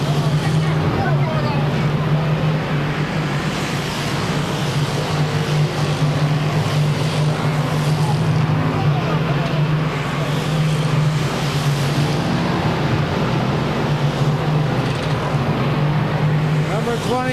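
Modified race cars at Claremont Speedway in 1996, a continuous loud engine roar from the pack circling the track, with an announcer's voice heard over the noise.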